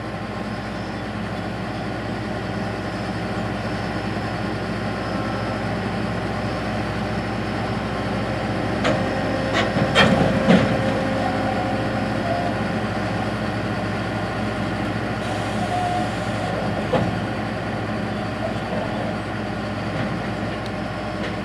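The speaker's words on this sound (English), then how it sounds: "As the combine prepares to head out to the field" A combine harvester fitted with a Shelbourne Reynolds XCV42 42ft stripper header rumbles steadily as it heads out to a wheat field, a continuous droning engine with a few brief clanks and knocks midway, no talk.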